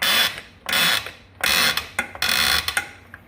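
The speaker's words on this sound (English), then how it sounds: "we are going to be jacking up the rear of this thing" A jack ratchets up the rear of a Kawasaki Teryx in four or five loud, close bursts of rapid clicking, separated by short pauses and ending in a few sharp single clicks.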